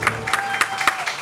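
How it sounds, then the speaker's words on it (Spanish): A studio audience claps for Paco the magician in a handful of distinct, evenly spaced claps at moderate volume over a low background hum, sounding sparse rather than a full ovation. "Un aplauso tío, enorme sí"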